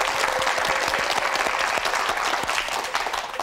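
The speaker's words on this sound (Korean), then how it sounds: "박수 한번 주세요" A studio audience on a Korean TV quiz show breaks into steady, close applause that fills the whole moment without pause, dense and even from start to finish.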